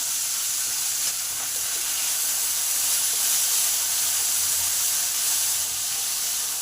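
Yardlong beans fry in hot oil in a pan, a loud, steady broadband sizzle and hiss that holds evenly throughout without letting up.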